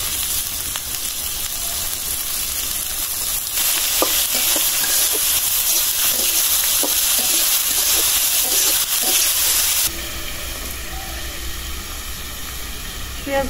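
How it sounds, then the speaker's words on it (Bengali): Chopped onions hit hot oil in a pan and sizzle loudly and steadily, with scattered clicks and scrapes of stirring over the hiss. "তেলটা গরম হয়ে গেছে, দিয়ে দিলাম পেঁয়াজ কুচি।"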